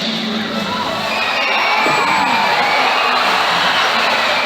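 Stadium audience at a SeaWorld San Antonio orca show cheering and shrieking after a killer whale breach splash, a loud, dense swell of excited shouts and whoops, including children's voices, sustained throughout.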